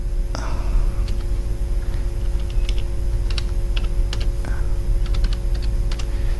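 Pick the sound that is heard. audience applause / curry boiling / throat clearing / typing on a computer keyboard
typing on a computer keyboard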